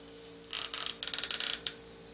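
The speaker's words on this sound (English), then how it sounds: "So you just push this lever down just the same way that you pulled it out." A CPU socket lever is pushed down and latched, giving a quick run of about a dozen crisp, closely spaced ratcheting clicks, then one final click, close-up and alone against a faint hum.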